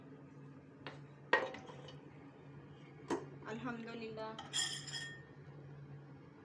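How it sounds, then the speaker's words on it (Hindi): Pots and steel utensils clink and clatter as a pressure cooker lid is opened after the chicken yakhni has cooked, a few sharp metallic knocks and rattles under a steady stove hum, with a voice speaking briefly. "अब हम अपना कुकर खोलते हैं और चेक करते हैं।"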